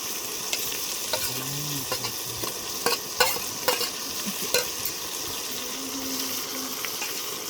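A ginger-garlic masala with green chilies sizzles gently in oil while a spoon scrapes and knocks against the pan in irregular stirring strokes, with a brief faint tone in between.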